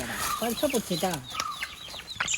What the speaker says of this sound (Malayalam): ഇതാണ് കോഴിക്കുട്ടികൾ, 2 കോഴിക്കുട്ടികളുണ്ട്.